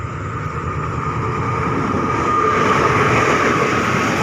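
Express train 638 runs past on a Thai railway line with a steady, loud, close rumble and rattle of wagons that builds slightly and continues throughout.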